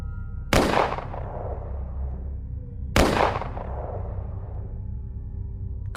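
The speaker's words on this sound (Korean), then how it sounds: "갑자기 두 번의 엄청난 폭발음이 울렸어" Two loud explosion sound effects boom about two and a half seconds apart, each a sharp, close blast that rolls off into a decaying rumble, with no talking.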